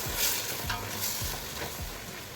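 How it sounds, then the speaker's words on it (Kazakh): Chopped white onions sizzle in hot fat with beef in a pot for goulash, loud and close, while a utensil scrapes and stirs in repeated rhythmic strokes. "турап дайындап алған ақпиязымызды қуырамыз"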